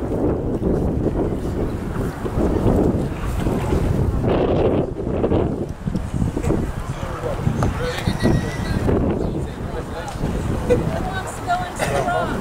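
Wind blows across the water at an outdoor kayak event, a steady rumbling buffet on the microphone, with voices mixed in at times.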